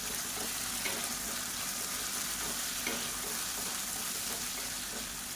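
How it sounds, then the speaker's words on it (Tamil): Steady, dense sizzling of drumsticks (moringa pods) sautéing in hot oil, with occasional stirring clatter, continuous and fairly close throughout. "இந்த எண்ணெயிலே நல்லா வதக்கி விட்டுக்கலாம்"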